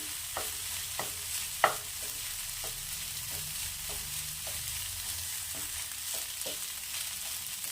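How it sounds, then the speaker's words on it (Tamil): Egg fried rice is stirred and tossed in a pan, a soft continuous sizzle broken by regular scraping taps of the spoon, one louder knock near the start, with no voices. "எல்லாத்தையும் நல்லா மிக்ஸ் பண்ணிடலாம்."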